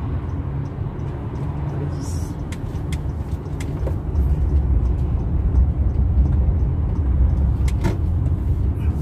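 Road traffic on Malik Road in Jeddah, Saudi Arabia, heard from inside a moving car: a steady, loud low rumble of engines and tyres that grows slightly heavier partway through, with faint passing swishes and no talk.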